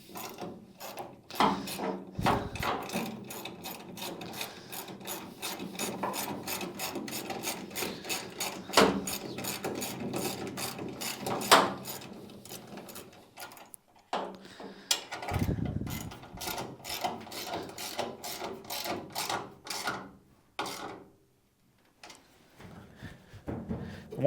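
A bolt being ratcheted into the stake pocket of a 1946 Studebaker truck bed, with rapid, rhythmic metallic clicking in long runs, close and fairly loud, broken by short pauses and a few heavier knocks.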